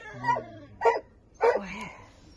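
A blue-eyed corgi gives three short, close yipping barks spaced about half a second apart, with quiet pauses between them and no talking.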